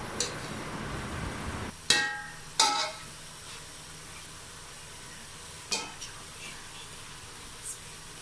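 A spoon stirring beef qeema pulao in a cooking pot, with a few sharp metallic clanks against the pot over a faint steady sizzle and no talking.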